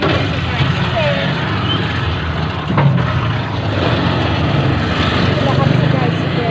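A tricycle ride on a busy road, with a steady motor drone and passing traffic noise throughout, loud and close, with voices talking over it.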